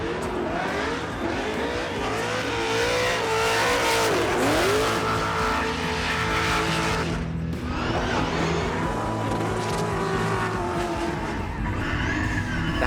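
A race car drives hard at speed, its engine droning loudly and steadily with revving pitch sweeps and tire squeal, close and continuous with no talk.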